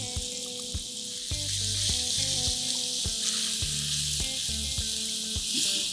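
A large finely chopped onion dropped into hot oil with whole spices and ginger-garlic paste, bursting into a loud steady sizzle with periodic scraping stirs in the pan.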